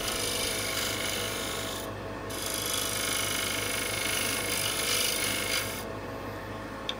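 Skew chisel with a sharp side bevel cutting cross-grain wood on a lathe, a steady close rasping shave that runs continuously with slight swells and no pauses.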